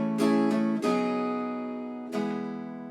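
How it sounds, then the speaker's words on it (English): An acoustic guitar is strummed in several quick strokes, including open strings between chord changes, then rings out before one more strum, the chord sustaining and fading. "you're going to strum some open strings while your hand is moving to the next chord"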